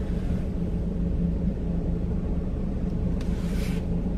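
A car driven slowly through a residential area gives a steady low engine rumble that holds even for a few seconds, with a brief faint hiss near the end and no talking.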